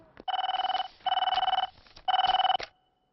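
A telephone rings in three steady electronic bursts, each trilling for about half a second, close and clear, then stops.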